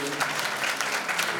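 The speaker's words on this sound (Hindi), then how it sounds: "ताली बजाएं मेरे यीशु के" Congregation clapping for Jesus during a Hindi-language church service, a short burst of brisk, rhythmic applause from many hands, with a voice heard briefly underneath.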